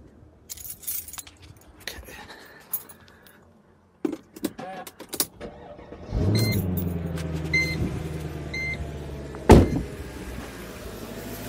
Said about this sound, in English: Let's try out starting the car and see if it even turns on.